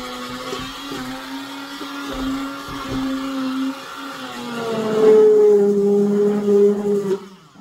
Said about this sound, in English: And I've got my immersion blender.